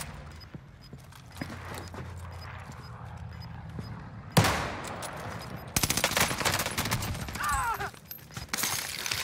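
Gunfire in a first-person shooter video game, with sharp bursts of shots over a steady background din, building to a loud cluster of rapid reports in the second half.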